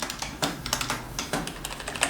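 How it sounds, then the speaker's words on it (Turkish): Rapid typing on a Logitech G213 Prodigy RGB gaming keyboard, a steady run of close, moderately loud keystroke clicks with no voices. "orta bir seviyede klavye sesi var"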